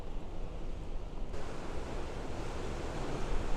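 Strong wind at sea rushing and roaring against the microphone, a steady broadband noise that grows louder partway through.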